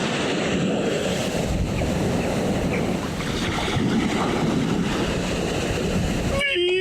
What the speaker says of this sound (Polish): Tam proszę Państwa strumyczek, bieżąca woda.